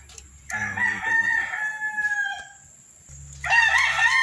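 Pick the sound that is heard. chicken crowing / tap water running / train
chicken crowing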